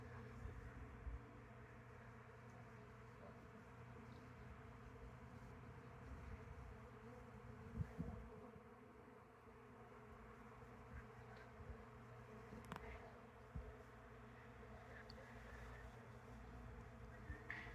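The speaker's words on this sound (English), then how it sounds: "The sound's getting a little bit louder. I'm seeing more and more bees." A swarm of honeybees makes a steady, faint, dense buzz that carries on without a break, with a few brief louder passes of individual bees.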